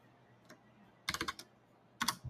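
Quiet typing on a computer keyboard: a single faint tap, then a quick cluster of several keystrokes, a pause, and another short burst of clicks.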